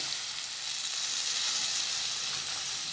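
A lemon rice tempering sizzles and hisses steadily after lemon juice is poured in, a close, even frying sound with no voices.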